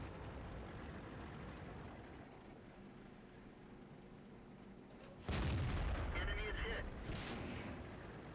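Tank shell hitting a heavy tank in World of Tanks, a sudden loud booming impact after a quieter rumbling stretch, followed by ringing debris and a second crack fading out.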